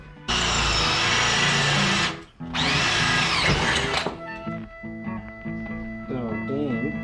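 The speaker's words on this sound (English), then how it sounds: "I think that just burnt off the the tip of that drill bit" A power drill whines loudly in two long bursts, boring into metal on a 1951 Chevy Fleetline, followed by scraping and clattering of tools while someone talks.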